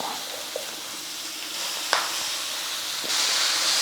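Black nightshade greens dropped into a hot kadai over sautéed onion and turmeric, giving a steady close hiss of steam with a few soft clicks and a louder burst of sizzling near the end, no voices.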